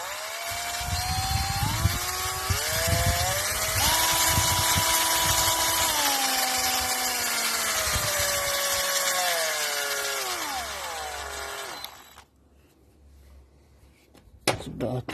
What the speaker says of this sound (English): this is a 5-speed drill, as you noticed